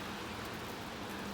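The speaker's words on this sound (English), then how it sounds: "It's raining. It's gonna rain all night." Steady rain falls through the night on a street in New Jersey, a dense even hiss that goes on without a break and has no voices over it.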